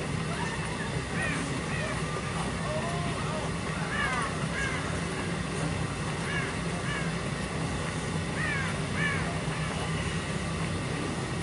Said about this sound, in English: Yeah, trigger the crows.